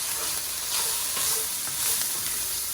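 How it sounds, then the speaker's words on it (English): Broccoli and onion sauté in hot oil in a pan for a chicken and broccoli stir-fry, giving a steady, close sizzle with soft stirring swells and no talk. "And in goes in my broccoli and my onion. And we are going to saute 2 to 3 minutes."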